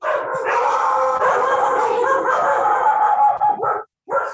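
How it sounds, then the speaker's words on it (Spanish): Several dogs barking and howling together in a sustained, overlapping chorus, fairly loud and near, ending with a couple of short yips. "Se echaron los perros."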